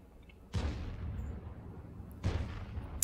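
Two booming tank cannon shots in World of Tanks, spaced under two seconds apart, each a sharp blast with a rumbling tail, moderately loud over a quiet game background.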